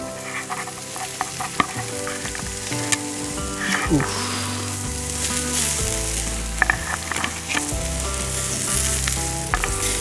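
Pork ribs fry in a pan, giving a dense continuous sizzle and crackle with occasional sharper pops, close and steady throughout, and no voices over it.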